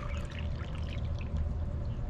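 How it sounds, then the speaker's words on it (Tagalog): Water poured into a water pump, a steady gurgling pour with trickling over a low continuous rumble, fairly faint and with no voices. "So itong isa guys, lagyan din natin ng tubig, tingnan natin kung bababa."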